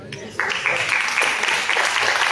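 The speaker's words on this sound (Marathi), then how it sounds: "त्या लागतात मनापासून दिलेल्या दाद म्हणजे टाळ्या" An audience at a Marathi ghazal mushaira breaks into applause. Dense, steady clapping swells in after a brief moment and fills the rest of the clip.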